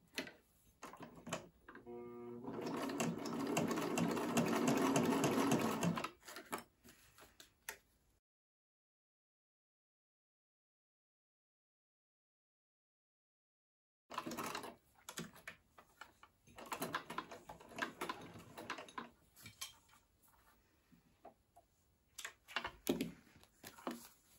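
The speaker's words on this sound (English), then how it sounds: "I am going to sew this on, and then after I'll show you what it looks like." A sewing machine stitches through several thick layers of fabric in one steady, rapidly ticking run. A long silence follows, then scattered clicks and handling of the fabric.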